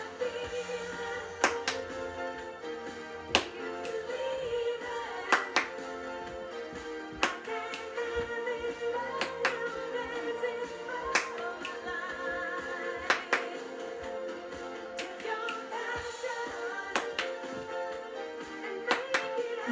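Children in a school music assembly clap body percussion together in time, with sharp, evenly spaced group claps and slaps over a steady musical backing, the claps near and loud.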